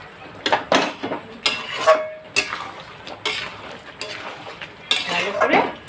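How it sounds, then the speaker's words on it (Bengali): Potatoes for aloo dum being stirred in a pan over a high gas flame, with repeated scraping and clinking of a utensil against the metal in uneven bursts, close and fairly loud. "এবার ভালো করে দিয়ে গ্যাসের ফ্লেমটাকে তেজ করে একটু ভালো করে কষিয়ে নেবে।"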